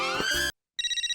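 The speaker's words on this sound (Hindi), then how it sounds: "फोन आ रहा है, क्या बोलूं?" A phone rings with an incoming call: a loud, close electronic ringtone plays, breaks off briefly, then resumes as a rapid pulsing tone, with no voices.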